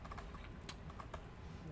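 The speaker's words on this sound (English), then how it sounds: "Let me type it in." Keys tapped on a computer keyboard while entering network settings, a quick uneven run of soft clicks, close and faint against a steady background hiss, with no talk.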